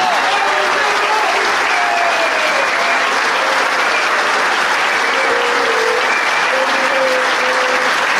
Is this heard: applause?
yes